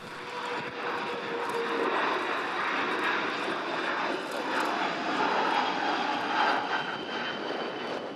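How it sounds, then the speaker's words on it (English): A Japanese Maritime Self-Defense Force Kawasaki P-1 maritime patrol jet flies a display at an air show, giving a sustained, loud roar of engines that swells and fades gently over several seconds. "this Japanese Marine Self-Defense Force Kawasaki P1 wasn't particularly impressive"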